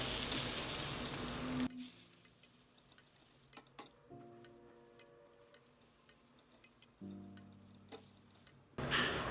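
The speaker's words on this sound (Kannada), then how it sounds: "ಲೋ ಫ್ಲೇಮಲ್ಲಿ ಘಮ್ ಅಂತ ಸುವಾಸನೆ ಬರೋವರೆಗೂ ಹುರ್ಕೊಳ್ಳೋಣ" Cumin seeds and gram flour roast in a pan over a low flame, a quiet dry crackle with soft ticks and the scrape of a stirring spoon, framed by louder bursts at the start and end.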